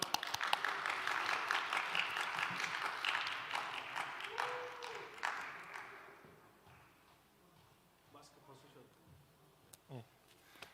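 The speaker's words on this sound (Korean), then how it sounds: "우리 박수로 환영할까요?" Applause from a church congregation greeting a young man called up to make an announcement, a dense clatter of clapping that fills the first half and then thins out into scattered claps and quiet murmurs.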